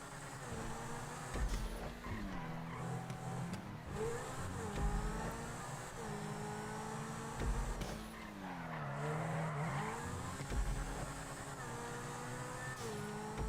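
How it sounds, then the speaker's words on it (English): A Pegassi Zentorno supercar races around a test track in the GTA video game, its engine revving up and down through repeated gear shifts with tire squeals and skidding through corners, loud and continuous. "it sounds like a supercar is supposed to sound"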